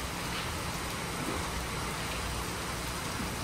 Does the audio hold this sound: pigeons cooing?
no